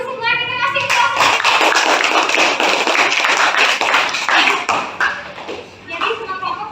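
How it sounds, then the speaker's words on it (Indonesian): Classroom applause for the groups' presentations: many hands clap steadily and close together for several seconds, with children's voices mixed in, before fading near the end. "kita kasih aplaus"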